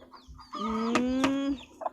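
Native Thai chickens on a mixed backyard farm give a close, fairly loud run of clucking calls lasting about a second, with a brief softer cluck just after.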